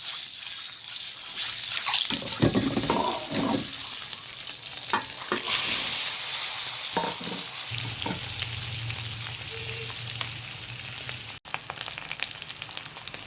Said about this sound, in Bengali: কড়াইতে ডিম দিয়ে দেবো।